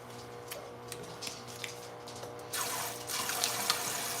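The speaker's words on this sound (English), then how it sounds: "I'm washing my hands" A tap runs into a sink while hands are washed, starting as a soft trickle over a low hum and ticking, then turning into a loud, steady gush of water close by.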